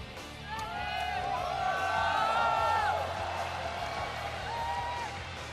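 A crowd at a League of Legends all-star ring ceremony honoring the Season 2 world champions, the Taipei Assassins, cheers and whoops at moderate distance, swelling for a couple of seconds and then fading to a lighter murmur.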